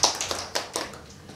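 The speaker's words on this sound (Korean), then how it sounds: "박수 한번 쳐주세요." Brief applause from a church congregation during a Sunday worship service, a few scattered claps rather than a sustained ovation, moderately loud with no talking.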